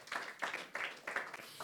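A church congregation claps in a brief burst of applause, several quick uneven rounds of hand claps close by with no talk over them.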